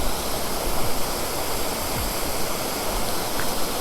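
Waterfall near Mullayanagiri Peak in Karnataka, heard as a loud, dense, continuous rush of falling and flowing water with no breaks and no voices.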